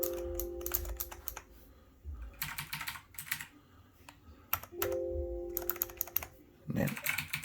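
Bursts of fast typing on an RGB LED 104-key anti-ghosting gaming keyboard, close and crisp clacking in several runs with short pauses between them, with a faint hum in the background.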